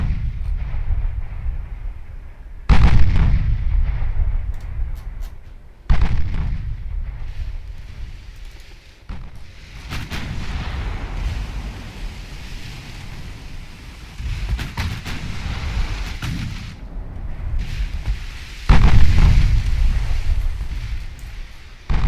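Heavy naval guns fire shells in a Ultimate Admiral Dreadnoughts battle between super heavy cruisers and light cruisers, each salvo a loud booming blast followed by rumbling decay, with four or five big reports spread across a continuous low roar.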